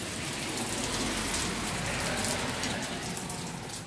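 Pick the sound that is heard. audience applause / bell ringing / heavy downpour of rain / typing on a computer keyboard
heavy downpour of rain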